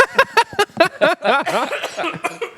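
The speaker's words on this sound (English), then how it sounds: "Lost it. in a coughing fit." A close, loud fit of coughing: a rapid run of harsh coughs followed by strained, wheezy gasps and sputters.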